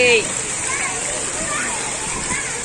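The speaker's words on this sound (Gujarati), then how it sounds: "જો જુઓ તમે નાના છોકરા બધા પાણીથી રમે છે જો જુઓ તમે અહીંયા ફુવારા થાય છે" Children splash and play in a fountain at the Swaminarayan Gurukul in Surat, a steady wash of falling and churning water that continues through the whole stretch at an even level.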